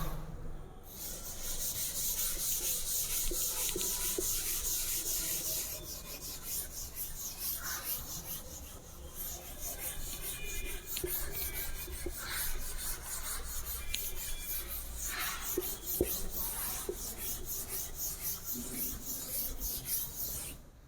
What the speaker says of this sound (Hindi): इधर वाले रूल में रब कर दे रहा हूँ।